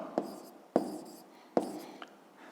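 Handwriting on paper during a fifth-grade maths exercise, a few short scratchy pen strokes in separate bursts, close and quiet, with no talk.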